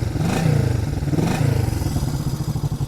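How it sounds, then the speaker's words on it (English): A classic Honda CB250 K4 motorcycle idles close by, its small twin engine running with a steady, fast, light ticking rhythm and a slightly tinny exhaust note. "listen to that engine, that sounds like a little sewing machine"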